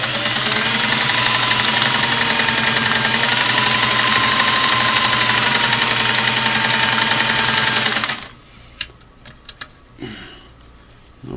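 A restored Singer Model 503A sewing machine stitches fabric with a steady, loud, fast mechanical whir for about eight seconds, then stops, leaving a few scattered clicks and handling noises.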